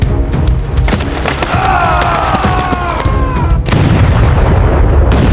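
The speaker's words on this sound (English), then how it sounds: "A thunderous volley erupted from the earthen redoubt, a solid sheet of lead tearing into the compressed enemy ranks below" A musket volley fires from an earthen redoubt, a loud, dense roar of gunfire with sharp cracks and splintering over a sustained heavy rumble that briefly dips before surging again.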